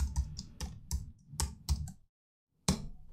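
Someone typing on a computer keyboard, a quick run of close, crisp key clicks in an irregular rhythm, a brief pause, then another keystroke.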